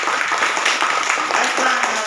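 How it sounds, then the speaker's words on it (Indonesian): A class of fourth-grade pupils claps for their teacher in a classroom, a dense, steady patter of many hands filling the whole moment, with children's voices mixed in underneath. "Tepuk tangan dulu untuk saya"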